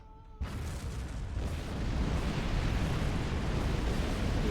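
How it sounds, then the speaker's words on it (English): Charges detonate at a facility on an asteroid in a Star Trek video game, a sudden loud blast erupting after a brief quiet start and rolling into a sustained, dense rumble that stays loud to the end. "So first thing we'll do, detonate the charges."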